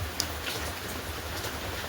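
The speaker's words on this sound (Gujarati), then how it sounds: "તે વરસાદ ચાલુ છે" Steady rain falling during a wet day in Gujarat, a soft, even hiss that fills the short stretch without a break, with no voices over it.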